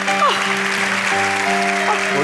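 Studio audience on a Turkish talk show applauds in a steady wash of clapping. Sustained tonal sounds, such as music or voices, run over the clapping throughout.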